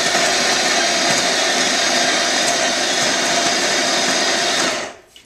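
A grinder turns coffee beans to a very fine powder on its smallest setting, giving a loud, close, steady whirring roar that carries on for about five seconds and then cuts off abruptly.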